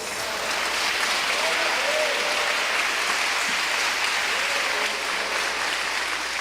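Congregation applauding during a church sermon on God's greatness, a dense, steady wash of clapping and crowd noise that fills the whole stretch at an even level, with voices faintly mixed in.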